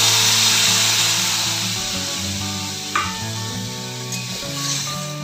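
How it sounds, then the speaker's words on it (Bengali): Sizzling frying as mixed vegetables hit hot oil in a pan with spices, a steady loud hiss with some clatter and stirring, no talk. "সবজিটা ঢেলে দেব।"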